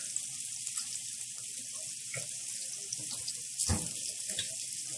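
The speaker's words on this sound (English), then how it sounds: "Gonna add some water." Water runs steadily from a tap or is poured into a pot of seared pork and cream of chicken soup, a soft continuous splashing with a few faint clinks, no voices.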